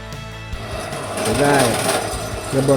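A handheld electric drill whirs and drones steadily while drilling motorcycle parts on a Shogun 125RR, rising in pitch midway, with someone talking over it close by.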